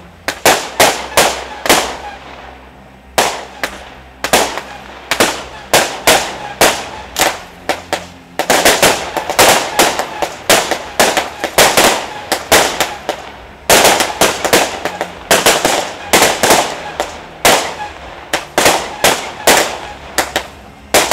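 Fireworks at an outdoor chapel anniversary celebration in Nyons, a rapid series of loud sharp bangs and crackling bursts, some overlapping, continuing densely throughout.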